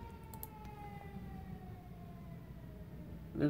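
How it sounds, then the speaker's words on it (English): A fire truck siren wails faintly from the street at a distance, a thin steady tone over low background rumble, with a brief louder bump near the end. "There's a siren like on the street."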